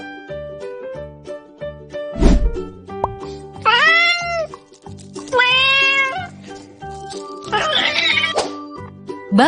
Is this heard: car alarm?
no